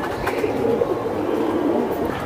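Silver high-flyer pigeons, a pure-bred type, coo in a continuous low burbling murmur close by, with several birds overlapping steadily throughout.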